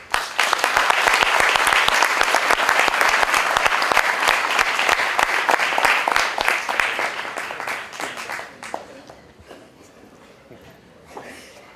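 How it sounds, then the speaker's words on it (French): An audience applauds loudly at the opening ceremony of a French youth sports event in Villejuif, dense sustained clapping from a crowd for several seconds before it tapers off, leaving a faint room with scattered sounds. "Je vous demande d'applaudir très très fort Kamela Setou."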